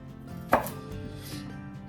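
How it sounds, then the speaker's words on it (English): A single sharp knife chop through a garlic clove on a cutting board, one crisp thud near the microphone followed by quiet kitchen background, no talking. "So I'm gonna cut the garlic down the middle."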